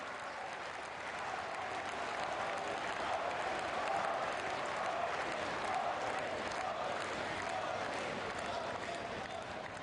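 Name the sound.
applause welcoming Prime Minister Modi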